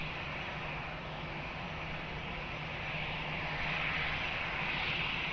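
An airliner taking off from runway 20 at Lisbon Airport, a steady, distant engine roar that slowly swells over several seconds with no talk.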